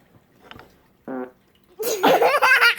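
A fart noise played back by an Amazon Echo Dot smart speaker, one short buzzy burst in a quiet room, followed by a person talking.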